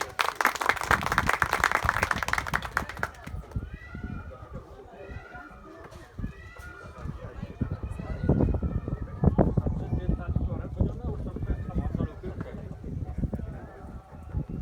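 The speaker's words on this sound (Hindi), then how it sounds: "आप सबको लिए एक जोरदार तालियां" Applause breaks out at a Mother's Day gathering at a cow shelter meeting, dense clapping for a few seconds that thins into scattered claps and murmuring voices, with faint birds and a distant siren-like tone.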